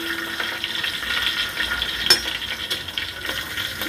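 Cumin, cinnamon, fennel, cloves and slit green chillies sizzle in hot oil with a steady close crackling hiss and occasional sharp pops, no talk over it.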